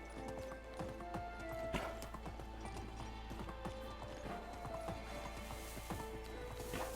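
A donkey galloping at top speed in the Medieval Dynasty game, a fast continuous patter of hoofbeats with an occasional whinny over steady outdoor ambience, faint and even throughout.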